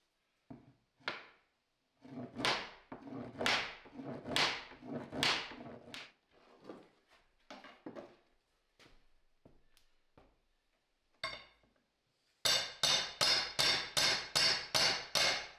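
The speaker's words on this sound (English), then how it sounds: "that's gonna have to hammer back to try to get it to snap in" Hammer blows drive a part back until it snaps into place in a solo workshop build: irregular dull knocks at first, then a tight run of sharp, evenly spaced strikes, loud and close.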